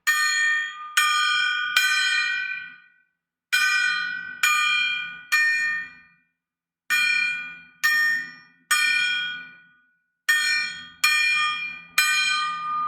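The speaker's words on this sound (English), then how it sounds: "let's strike this gong" A gong is struck again and again in quick groups of two or three, each hit ringing out bright and metallic before fading into brief silence.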